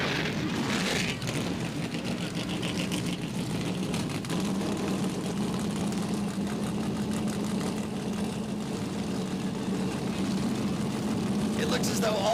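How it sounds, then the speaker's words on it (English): Several race car engines idle together in a continuous low, rumbling drone at a modified car event, steady and fairly distant with a slight rise near the end. "It looks as though all the cars have started and are running."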